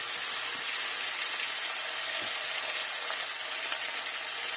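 Chicken liver frying in a pan as powdered spices go in, giving a steady, dense sizzle with faint crackles, constant and close with no talking.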